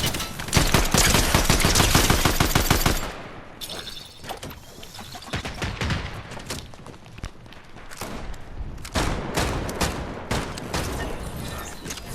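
Rapid automatic gunfire in the video game Fortnite, a loud dense burst for about three seconds followed by scattered single shots and shorter volleys, with footsteps and thuds between.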